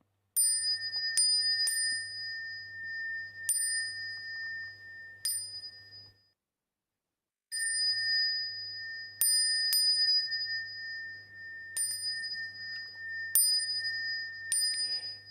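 A small handheld bell struck repeatedly at a Buddhist ceremony before bowing, giving clear, bright rings in irregular groups with a short pause midway, close and alone.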